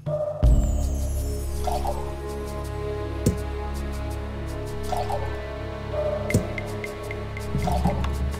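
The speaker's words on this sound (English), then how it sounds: "I'm sure I'll get precisely what I want by pouring the beer carefully into these 3 jugs." Beer pours into three jugs in the Egypt II game, heard as repeated dripping and liquid filling sounds over a steady low background drone, fairly close and moderately loud.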